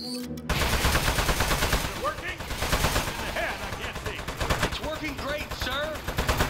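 Rapid, continuous machine-gun fire rattles in the video game Aperture Desk Job, a dense rhythmic volley running throughout, with a synthetic character voice talking over it.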